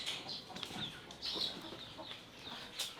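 Japanese emperor chickens, long-tailed ornamental fowl, cluck and chirp in repeated soft bursts at moderate distance, with several birds calling over a quiet farm background.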